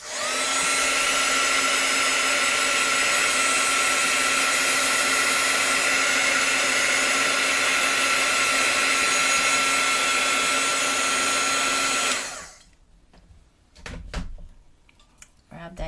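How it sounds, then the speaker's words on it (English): A hair dryer blows on wet paint. It makes a loud, steady roaring whir for about twelve seconds, then cuts off abruptly, leaving quiet handling and knocking sounds. "I'm going to hit that with the dryer for a split second"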